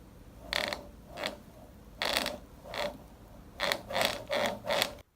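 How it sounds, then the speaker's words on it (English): Squeaky bushings on an Evolve electric skateboard creak in a run of about nine sharp, rhythmic squeals as the deck is rocked, close and clear with no talking. "we're going to be checking out some squeaky bushings and what you can do to sort those guys out"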